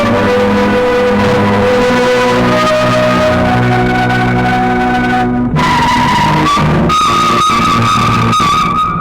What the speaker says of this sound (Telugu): డ్రైవర్, కారు ఆపు.